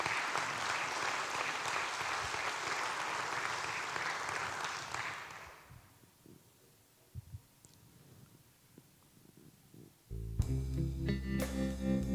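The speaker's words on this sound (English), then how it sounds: "How about one more round of applause, if you don't mind," Audience applause at the SIU Foundation 75th anniversary celebration, a full clatter of hands that fades out after about six seconds into a quiet room, followed by a burst of music.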